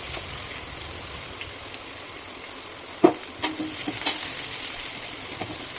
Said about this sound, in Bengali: কড়াইটা ভালো করে গরম করে তাতে লঙ্কা কুচি এবং পেঁয়াজ কুচি নিয়ে ভালোভাবে নাড়িয়ে চাড়িয়ে ভেজে দিতে হবে